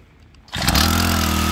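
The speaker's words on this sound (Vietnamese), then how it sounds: "Đây là mình gắn vào chiếc máy cắt cỏ Robin 4 thì." A leaf blower attachment fitted to a Robin four-stroke grass trimmer starts up after a quiet moment and runs at a loud, steady high-revving whine up close.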